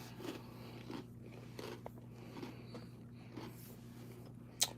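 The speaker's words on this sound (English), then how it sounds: "That's me crunching on a cracker." Someone crunches on a cracker close to the microphone, giving soft, scattered bites and crunches over a low steady hum, with a sharp click near the end.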